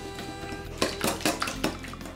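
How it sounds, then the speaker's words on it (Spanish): Eggs, butter, honey and water are stirred in a bowl, a few close clinking utensil taps and wet sloshing strokes against a quiet background. "Y removeremos hasta integrarlo todo."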